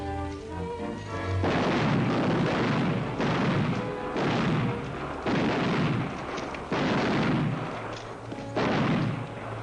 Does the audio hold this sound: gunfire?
yes